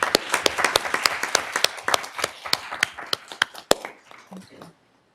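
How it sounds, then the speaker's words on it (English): A small group claps for a few seconds at a Sacramento City Unified School District board meeting, the sharp claps thinning out and stopping, with no talking over them. "if you'll please join me in giving her a warm round of applause and welcome"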